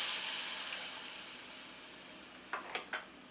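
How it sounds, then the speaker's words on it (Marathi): Hot mustard seed, cumin, asafoetida and curry-leaf tempering hits a raw mango chutney with a fading sizzle, followed by a few sharp crackles near the end. "आता ही गरमच फोडणी ओतून घ्यायची"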